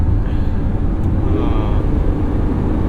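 Inside a Lamborghini Revuelto cruising at highway speed in Strada mode, a low, steady road and engine rumble fills the cabin at a subdued level, with a voice talking over it.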